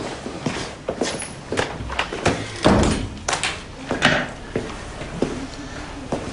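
Office door closed in a French workplace scene, amid footsteps and shuffling; several thuds and knocks of varying loudness over a few seconds, with faint background voices.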